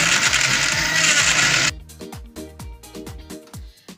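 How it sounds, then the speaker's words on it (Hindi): Kitchen blender whirring loudly as it purees strawberries and yogurt for a strawberry lassi, a dense steady roar for under two seconds that stops abruptly, leaving quieter clinks and rhythmic knocking. "इसको हम ब्लेंड करेंगे।"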